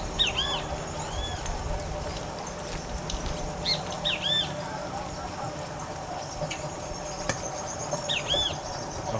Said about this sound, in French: Lorsqu'un oiseau chante